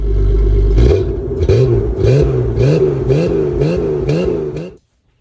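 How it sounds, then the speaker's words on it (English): A Jeep XJ engine revs loudly and repeatedly in about seven rhythmic bursts through a throaty exhaust, then cuts off abruptly. "if you can't guess by the iconic sound note in the exhaust, we got another XJ"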